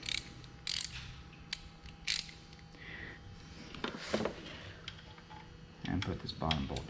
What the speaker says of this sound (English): I'm going to switch back over to my little ratchet.